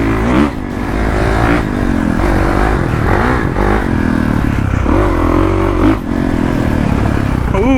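A dirt bike engine revs and labors close by while riding a rocky, muddy trail, with rising and falling throttle, rattles and clatter from the rough ground throughout.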